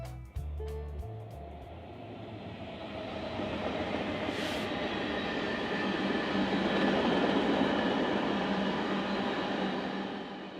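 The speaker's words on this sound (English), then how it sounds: "a high-speed passing of this eastbound sand train with the westbound intermodal." BNSF eastbound sand train passing a westbound intermodal train at high speed on a busy mainline beside an old Santa Fe depot, a loud steady rumble of rolling wagons that swells and holds after a brief opening clank.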